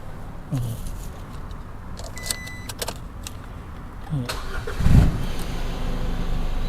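A white 2021 Isuzu pickup, a 1.9-litre diesel Cab4, has its key turned in the ignition; chimes and clicks lead to a short cranking burst before the engine settles into a low idle.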